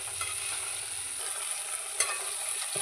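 Tomato and moringa leaves sautéing in a pan, a steady close sizzle with soft stirring scrapes and a sharper clink near the two-second mark, no voices.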